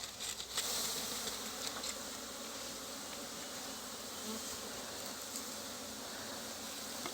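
A bee swarm captured in a bait hive box gives off a steady, dense buzzing hum, close and continuous with no voices.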